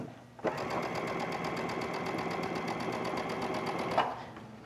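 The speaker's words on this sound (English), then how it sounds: "Just ease your fabric through as you stitch that ruffle in place." A sewing machine runs steadily for a few seconds, stitching a fabric ruffle onto a skirt, with a close, even mechanical whir that starts and stops abruptly.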